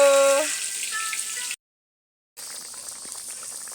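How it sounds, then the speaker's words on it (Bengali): Fish curry (macher jhal) made with green chillies and a little Kashmiri chilli bubbles in a pot, giving a steady, close simmering hiss. It breaks off into a short silence partway through, then the hiss resumes. "মাছের ঝাল ফুটছে দেখো"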